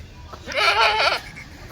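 A single drawn-out Kathiyawadi goat bleat, wavering and fairly loud, rising out of quiet background hiss and fading after about a second.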